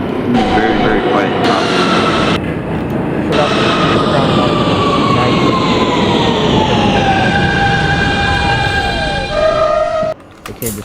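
Simulated NYC Subway R160B Siemens train on the N line to Coney Island in OpenBVE, a loud continuous motor whine with rising and falling electric tones and rumble, ending abruptly.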